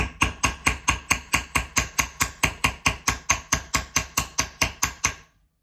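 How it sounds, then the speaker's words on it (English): Rapid, steady metal hammer taps on the top of a wire-wrapped hoop earring, about twenty close, evenly spaced strikes in a row, each with a short ring, and no other sound. "So I'm going to hammer real good at the top just to kind of strengthen that along."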